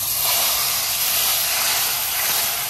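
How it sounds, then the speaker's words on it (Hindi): Hot tadka tempering sizzles into pakoda kadhi, a loud, steady, bright hiss of oil crackling close up without a break. "अब इसको फाइनल मैं तड़का लगाऊंगी और बंद कर दूंगी"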